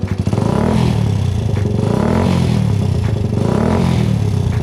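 A Suzuki GN 125 motorcycle engine fires up and idles loudly with a steady throbbing rumble, rising in a few revs close to the microphone.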